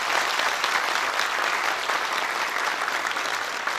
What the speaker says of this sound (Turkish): Alkış istiyorum.